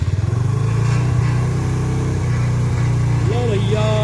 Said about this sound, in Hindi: इसको सेल्फ मार के स्टार्ट करेंगे